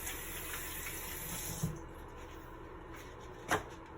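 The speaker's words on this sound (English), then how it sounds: "let me wash my hands real quick" Tap water runs steadily into a kitchen sink while hands are washed clean of cocoa powder during brownie baking, a constant close hiss with a couple of brief knocks.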